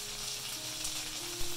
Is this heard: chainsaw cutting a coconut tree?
no